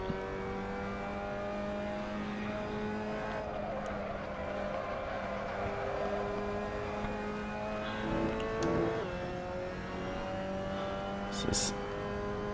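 A Mazda MX5 race car in a racing video game at the Sachsenring drones with a steady engine note, rising slightly and holding near constant, while a voice comments over it.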